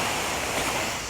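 Sea waves wash over a pebble-and-shingle hotel beach in Kemer, Turkey, a steady close hiss of surf and rolling stones with no talk.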